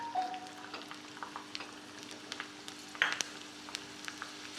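Finely chopped garlic frying in a little oil left over from frying eggplant, a quiet, soft sizzle with scattered small crackles and pops, including a sharper burst midway, near and without talk.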